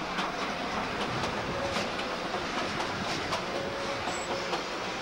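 A train rolls steadily through Germany, with a continuous rumble of wheels on rails and regular clickety-clack beats over the track joints, heard from inside the carriage, with no talk.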